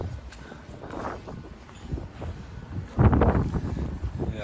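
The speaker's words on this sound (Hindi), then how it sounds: "बिल्कुल ठंडी ठंडी हवा चल रही है।" Cool wind gusts outdoors in Muscat, Oman, rushing steadily against the microphone as a broad buffeting roar that swells louder near the end, with no talking.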